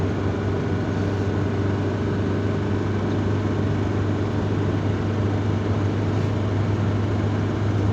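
A Gazelle van with an Andoria 2.4 TD diesel engine accelerates in fifth gear, a steady loud low drone and road rumble holding throughout with no talk.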